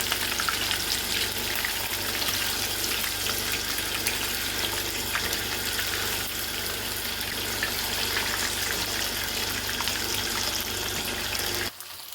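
Fish sizzles steadily in hot oil in a pan, a dense, even crackle that holds without a break for about twelve seconds and cuts off abruptly at the end; no one speaks.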